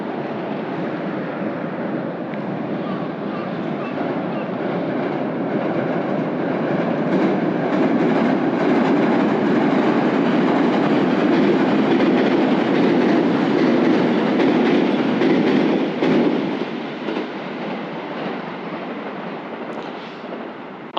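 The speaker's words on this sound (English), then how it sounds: "Oh, there is a train." A train rolls past on the railway between Mitaki and Nishi-Hiroshima, a broad rumbling clatter that builds, holds loud through the middle, then fades as it moves away.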